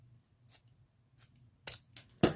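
Scissors cut through a thick zipper for a camping sleeping-bag blanket, giving a few sharp crunching snips that get louder toward the end, over a faint low hum.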